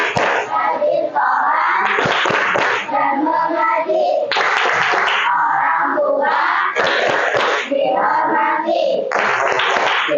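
A classroom of children claps the 'tepuk anak soleh' rhythmic clap chant, loud bursts of hand claps in a patterned rhythm mixed with the kids chanting together in unison.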